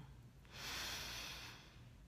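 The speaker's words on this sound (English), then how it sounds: "you take a deep breath, returning to that first act of life announced" A single deep breath drawn in through the nose, close and audible, swelling for about a second and then easing off, with nothing else heard.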